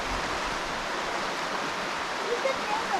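Steady broadband rush of a salmon-filled river flowing through bear country on Vancouver Island, constant and fairly close, with no voices over it.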